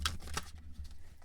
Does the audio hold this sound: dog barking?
no